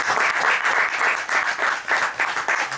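Dense applause from an audience at an awards ceremony for a young violinist, continuous and fairly close, with rapid overlapping claps throughout.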